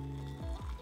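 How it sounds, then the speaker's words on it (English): Boiling-hot stock is poured into a jar of white asparagus, a short, faint liquid gurgle with quick swirling dips in pitch. "So the stock is boiling, it's boiling hot, which is important. And I'll just pour it in"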